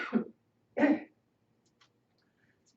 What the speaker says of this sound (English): got the coughs today